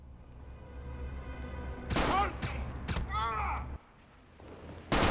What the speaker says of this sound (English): Hey, I put 3 rounds into him.